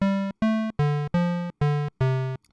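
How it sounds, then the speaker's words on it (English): Wavetable-built '80s video game synth tone with the high end rolled off and no resonance, playing six even, sustained square-wave notes in a steady rhythm, loud and alone. "'80s video game sound"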